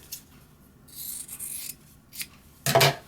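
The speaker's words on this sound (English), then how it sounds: "I'm going to trim those triangles off." Scissors trim fabric triangles off a sewn quilt seam, giving a few close, brief snipping and rubbing sounds with short pauses between cuts and no talking.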